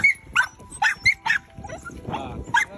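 Several thin dogs on a small island in the Philippines, where dogs are dumped, bark and yip in sharp, close bursts while three of them fight, with whimpering, growling scuffles in between.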